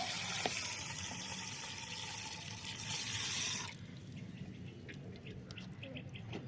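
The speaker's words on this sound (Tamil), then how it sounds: "இதை வந்து நல்லா ஊற போட்டுடலாங்க" Water is poured steadily over ration rice in a container to soak it, a continuous splashing gush that stops abruptly, leaving faint drips and quiet room sound.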